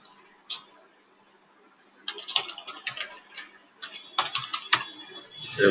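Keys clatter on a computer keyboard in bursts of quick, close taps while a username and password are entered, with short pauses between runs and a faint voice briefly at the end.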